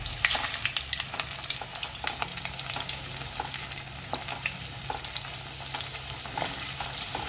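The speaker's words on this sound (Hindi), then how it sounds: "ये हमने इसमें आलू डाल दिए हैं। इसको थोड़ा सा हम फ्राई कर लेंगे।" Potatoes fry in hot oil for a Kolkata-style chicken biryani, giving a steady, close sizzle with dense crackling and popping throughout.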